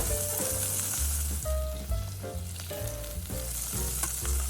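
Butter sizzles in a pot still coated from browning salmon, a loud, steady, close frying hiss that runs the whole time with no talk.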